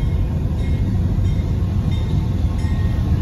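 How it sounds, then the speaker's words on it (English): A southbound Amtrak Texas Eagle passenger train rolls into a siding at Dittmar Road in Austin, Texas, giving a steady, loud, close rumble of wheels and cars that holds throughout with no voices. "That's just Amtrak taking a siding."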